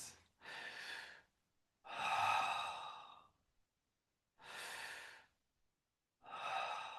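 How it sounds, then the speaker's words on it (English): A person takes two deep cleansing breaths. Each one is an audible drawn-in inhale followed by a long, sighing exhale, heard up close with silent pauses between them. "So first of all, just the two deep cleansing breaths."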